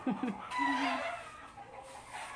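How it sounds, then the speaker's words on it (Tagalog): A short burst of chicken clucking and a rooster-like call, close and busy, fading into quieter background noise. "Ang ingay sa mga manok."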